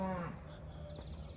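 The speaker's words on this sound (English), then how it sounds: "There's a cow back here." Cow mooing on a farm, a single low drawn-out call at the start that fades into quiet outdoor ambience, with faint murmuring in the background.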